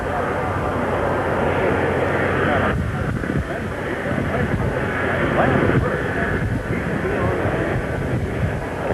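A propeller airliner drones loudly at an airport in Dallas in 1963 as the plane comes in to land. The roar is broad and sustained with a windy rush, and a voice talks over it throughout.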